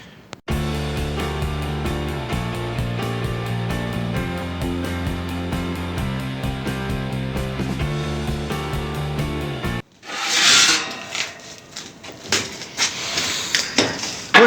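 The casing of a Titan welding inverter is opened after a stretch of steady music: loud, close clattering, scraping and knocking of metal panels and screws in uneven bursts.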